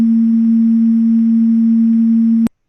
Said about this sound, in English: the first button is just a 330 hertz tone on its own.